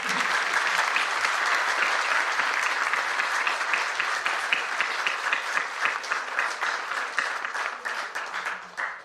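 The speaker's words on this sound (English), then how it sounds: "congratulate all the awardees with a huge round of applause" Audience applauds awardees at a prize award ceremony, sustained dense clapping that holds steady for most of the span and then tapers off toward the end.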